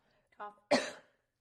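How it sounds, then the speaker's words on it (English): A single harsh cough, preceded by a short throat-clearing sound, close and fairly quiet against silence. "I've got a cough"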